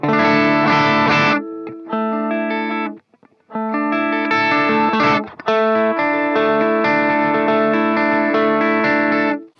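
Electric guitar with crunchy distortion playing sustained chords and riffs, loud and close, with brief pauses between phrases.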